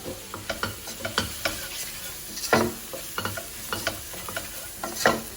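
A spoon stirs turmeric powder and salt into chicken pieces in a pan for curry, giving irregular scraping clacks and wet squelches with a faint sizzle underneath.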